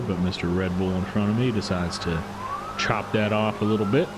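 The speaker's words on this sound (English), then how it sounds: "Sorry if you can hear that cop car going by me." A police car siren passes outside, its wail rising faintly beneath someone talking steadily over it.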